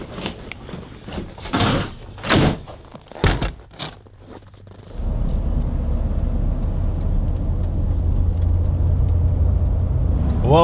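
A car sets off on a road toward Anchorage: a few door and clothing thumps and rustles come first, then a steady, loud road and engine rumble takes over inside the vehicle.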